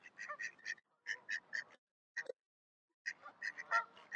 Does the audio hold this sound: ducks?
yes